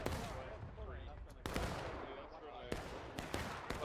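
Sharp cracks of artillery and rifle fire sound on an American Civil War battlefield at Antietam, a few loud reports spaced among distant rumbling and crackle, with voices talking faintly underneath.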